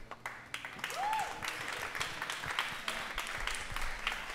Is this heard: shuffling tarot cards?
no